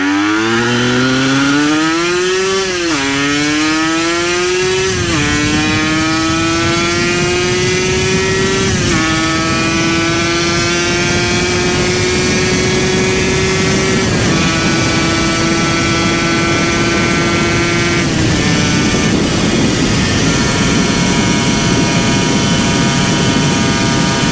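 A Honda N Pro motorcycle engine runs loud and close, its pitch rising through a few quick revs and then settling into a steady, slightly climbing drone for the rest of the stretch, with no talking.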